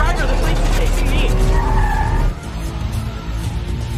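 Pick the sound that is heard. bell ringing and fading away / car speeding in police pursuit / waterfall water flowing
car speeding in police pursuit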